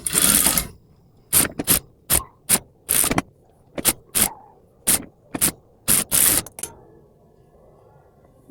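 A sewing machine stitches a baby's designer party dress in short repeated bursts, each a close, sharp whirring run separated by brief pauses, about a dozen runs in all with no voices.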